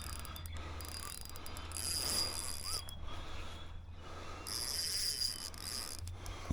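A fishing reel's drag ratchets and clicks in bursts as a carp pulls line while being reeled in outdoors, fast mechanical clicking that surges and eases over a low steady hum.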